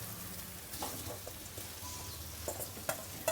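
Boiled potatoes are stirred into hot oil and spice masala, giving a soft continuous sizzle with scraping and clinks from the utensil, fairly quiet and without talk.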